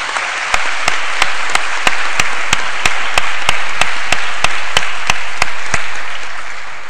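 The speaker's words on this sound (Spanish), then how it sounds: "Un aplauso para los dos." Audience applause at the end of a parliamentary-style student debate final, a steady wash of many hands clapping, loud and sustained for several seconds with no talking over it.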